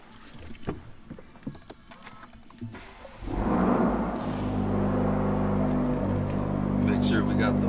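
An Acura Integra Type S engine cranks and catches, settling into a loud, steady idle after a few seconds of quieter shuffling and handling sounds.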